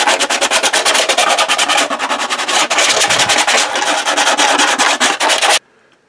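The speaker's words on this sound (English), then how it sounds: "And then you can deburr all those edges with a little sheet of sandpaper." A small sheet of sandpaper deburrs the edges of a Star Wars B-Wing pilot helmet prop part, making loud, close, rhythmic rasping strokes for several seconds before stopping abruptly.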